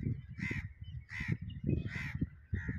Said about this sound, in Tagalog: Ang daming ibon dito kasi lalo na ngayon, taglamig na.